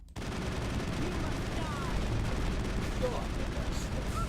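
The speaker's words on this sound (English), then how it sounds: "Open fire!" Sustained gunfire in a firefight from the Mass Effect video game on Noveria, a dense continuous barrage of shots with a few brighter cracks, steady and loud throughout.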